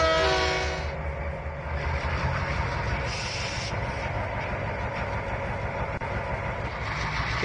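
A locomotive in Trainz 2019 rumbles through the Tidewater rail yard with a steady loud mechanical drone and rolling wheel noise, opening with a fading horn blast.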